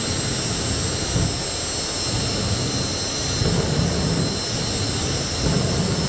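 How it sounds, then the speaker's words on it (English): Turbine engines on modified pulling tractors roar at a 1995 NFMS tractor pull in Louisville, Kentucky, a loud, unbroken jet-like whine and rumble that holds steady throughout. "She letting those turbines be heard from."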